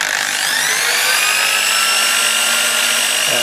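A steady, high-pitched motor whine runs continuously at close range from an electric drill held on during a Class 2 electrical safety test, with a slight pitch drop near the end.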